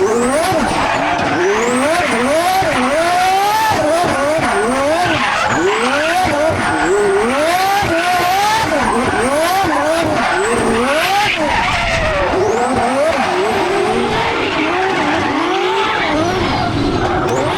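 Twin-turbo Ferrari drifting at a competition, its engine wailing and revving continuously as tires squeal and skid, loud and close for the whole stretch.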